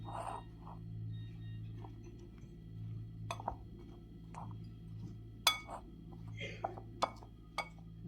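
Mustard flowers stirred with ground turmeric, cumin and chili powder in a bowl give quiet, scattered clinks and light taps of a utensil against the dish over a low background hum.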